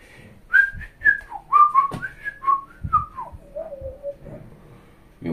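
A person whistling a meandering, wavering tune indoors, clear and close, with little pitch slides between notes and soft thumps of handling noise underneath.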